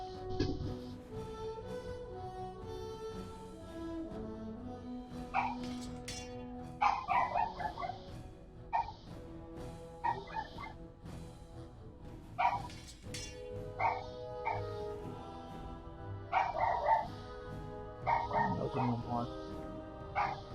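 A monster dog in Dragon Age: Origins barks and yelps in repeated bursts, mixed into a busy, dense game soundscape with music, fairly loud throughout.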